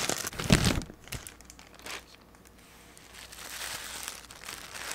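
A wig packed in a plastic bag is crinkled and handled, giving a loud burst of crackling near the start followed by lighter, scattered rustles and crinkles with no talking.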